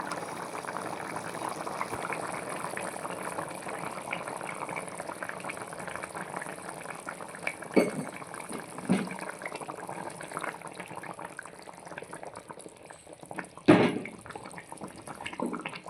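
Andhra-style fish curry simmering in a pot, a soft continuous bubbling with occasional louder spoon knocks and scrapes from stirring, fairly close and quiet.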